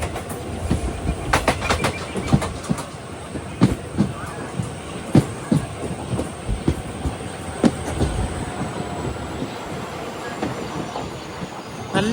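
Crowded passenger train on the Madurai to Rameswaram route, heard from inside as steady rumbling with repeated wheel clicks and rattles, plus occasional faint voices in the background.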